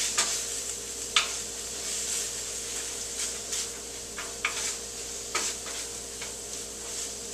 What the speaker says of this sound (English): So I'm just gonna saute these up a little bit more, or stir them around, I should say.